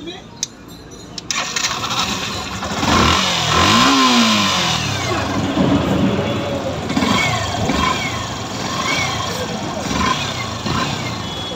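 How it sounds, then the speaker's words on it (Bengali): A Yamaha FZS version 3 BS6 motorcycle runs at a repair shop after fixing, close and loud, idling and then revving up and down in rising and falling sweeps, with some talk and clinking in the background. "তো এই তো বাইকটির সাউন্ড শুনলেন"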